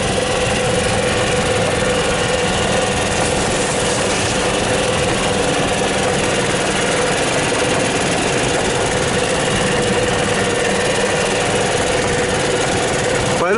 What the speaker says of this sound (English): a lot of driving going on here